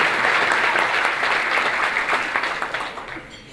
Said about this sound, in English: if you could all join me in a round of applause, please